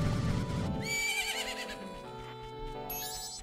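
Epona, the horse in Zelda: Majora's Mask, gives a game-style neigh, a rising whinny following a dense opening burst and then another short call near the end, heard clearly with no talking.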